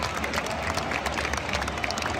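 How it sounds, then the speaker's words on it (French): At a Lille versus PSG football match, the stadium crowd applauds a substituted player, giving a dense, loud, continuous wash of clapping and crowd noise with no clear voices. "on t'applaudit, mon grand."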